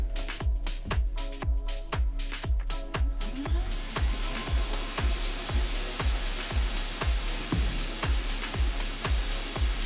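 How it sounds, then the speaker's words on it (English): A solder fume extractor fan runs as a steady, breathy whir that starts a few seconds in, under a regular series of rhythmic thumps. "So we'll bring back in our fume extractor."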